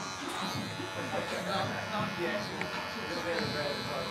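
Hair clippers buzzing steadily while cutting a low fade in a barbershop, a continuous close electric hum with a voice talking over it.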